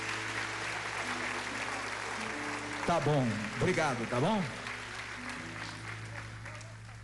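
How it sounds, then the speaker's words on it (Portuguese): A church congregation claps in a steady sustained wash of applause while someone speaks over it, with his voice rising briefly in the middle. "Vamos aplaudir o Senhor Jesus?"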